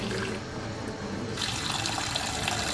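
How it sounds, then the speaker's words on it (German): Tap water runs into a basin, a steady rushing splash that swells brighter halfway through as the flow increases, close and alone. "Klares Wasser"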